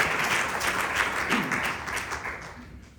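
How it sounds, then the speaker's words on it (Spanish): A church congregation applauding during a Spanish-language Bible study service, a steady wash of many hands clapping that fades slightly toward the end. "Regálele otro ofrenda de palmas al Señor."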